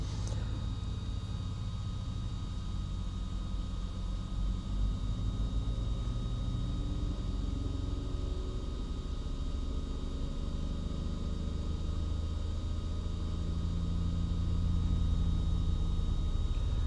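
A vintage Mack truck at an outdoor winter truck show idles with a steady, deep engine rumble that holds even and continuous from start to finish, with no voices.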